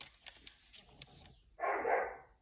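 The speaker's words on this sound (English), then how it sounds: "My neighbor's dog." A neighbor's dog barks in a short burst of loud, noisy calls near the end, after quieter scattered sounds.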